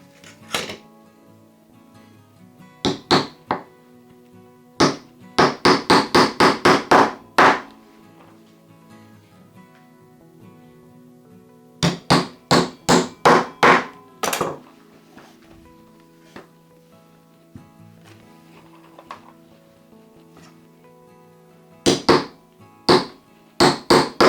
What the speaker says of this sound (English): Let's hammer them in.